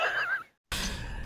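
A voice imitates a sci-fi Vorta weapon firing, producing a breathy, whooshing sigh that breaks off into a brief silence before a harsh, noisy burst, all short and close.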